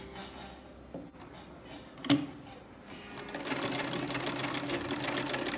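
A sewing machine runs close by, sewing a gathering stitch on fabric for a skirt, starting with a sharp clack and building into a steady mechanical whir during the last few seconds.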